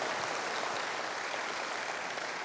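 A church congregation applauds in a thick, continuous wash of clapping, steady and even throughout with no clear gaps.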